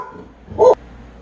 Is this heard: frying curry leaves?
no